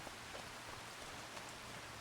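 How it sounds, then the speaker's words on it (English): Steady rain hisses in the farming video game Farming Simulator 25, a dense, even patter of drops heard alone without talk. "Is it because it's raining?"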